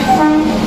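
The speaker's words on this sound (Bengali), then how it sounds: "এই যে ট্রেন দাঁড়িয়ে আছে" A train standing at Digha railway station gives a short, loud, steady horn-like tone over low rumbling, lasting under a second.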